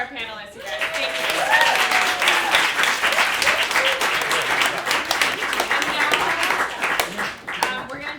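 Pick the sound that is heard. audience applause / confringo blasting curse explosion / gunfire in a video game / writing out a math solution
audience applause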